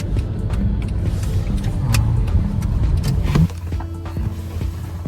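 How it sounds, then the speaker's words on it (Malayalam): A car being parked in a parking area, a nearby engine idling and rumbling, then cutting off partway through. After that a quieter hum and some light clicks follow, with no one talking. "അങ്ങനെ ഞങ്ങൾ കാർ പാർക്കിംഗ് ചെയ്തിട്ട് ഇറങ്ങുകയാണ്"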